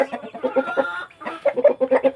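Chickens clucking up close in a run where roosters, hens and chicks are kept together, a quick string of clucks with a short pause in the middle, loud and with no talking.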